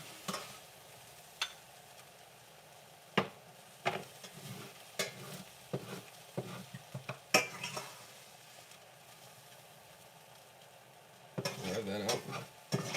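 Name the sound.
vegetables sautéing in a pan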